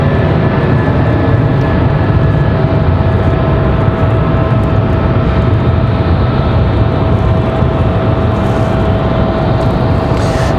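A Sunrise Airlines plane operated by GlobalX departs Raleigh-Durham International Airport, producing a loud, continuous roar of jet engines close by that holds steady throughout, with no voices.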